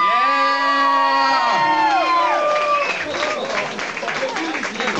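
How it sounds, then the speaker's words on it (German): An audience at the Sound For Tolerance music event in Falkensee cheers and applauds a prize announcement. High voices whoop and shout at first, then settle into a dense, loud crowd roar of clapping and cheering. "Gebt mal nochmal Applaus"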